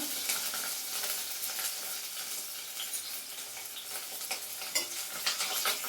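Garlic, ginger and green chillies sizzle steadily in a hot pan for a Gobi Manchurian, with scraping stirring strokes over a continuous crackling fry throughout.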